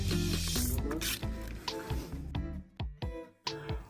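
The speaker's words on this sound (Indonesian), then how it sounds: "cara mengasah gergaji kayu atau bahasa umumnya mengikir gergaji" Hand file rasping across the teeth of a wood saw being sharpened, a quick series of short metallic strokes in an irregular rhythm, close and alone.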